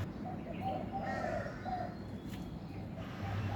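Outdoor morning birdsong in a city: a spotted dove coos softly in repeated phrases while a koel and crows call faintly in the distance over a low background hum.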